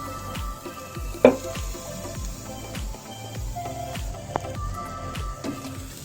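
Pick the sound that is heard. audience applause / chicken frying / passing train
chicken frying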